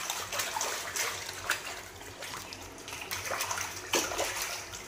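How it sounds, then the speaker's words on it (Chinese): Tender beef rinsed under running water in a home kitchen, a steady close-up splash and hiss of flowing water with small irregular sloshes and drips. "我们洗一下，冲洗一下，因为这条牛的是嫩牛"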